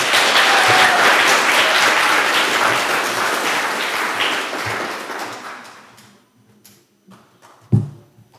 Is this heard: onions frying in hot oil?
no